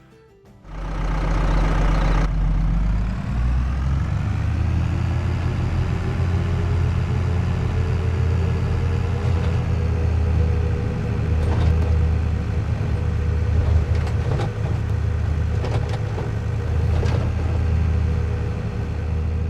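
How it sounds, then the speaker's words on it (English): A tractor or farm vehicle engine from the video game Farming Simulator 22 starts up and settles into a steady, loud idle with a low droning rumble, with a few faint clicks and knocks, and no talking. "Now each vehicle seems to have a unique engine audio."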